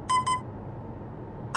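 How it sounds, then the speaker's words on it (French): TomTom XXL IQ Routes GPS speed limit warning: two quick electronic beeps at the start and a third at the end, clear and close over a low road hum. "Un bip sonore accompagne le tout pour attirer notre attention."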